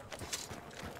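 Horse hooves clip-clopping in the video game Hunt: Showdown, a brief run of soft, irregular steps at moderate distance with no talk over them.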